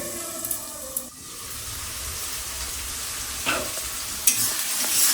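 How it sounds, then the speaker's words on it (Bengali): Chopped onions sizzling in a pan, a steady frying crackle with occasional stirring scrapes and clinks close by, no talking. "পেঁয়াজটা হালকা করে ভেজে নেব"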